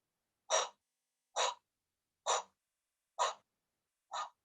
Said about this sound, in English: And then exhale 2 rounds of sa, ta, na, ma through an O mouth.